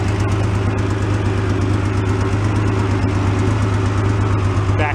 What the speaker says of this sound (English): A little valve tapping maybe.